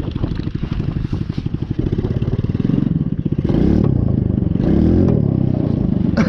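A cheap buggy's small engine labours and clatters as it pulls away in first gear, a loud, steady rasping drone that rises in pitch and strain partway through, with no voices.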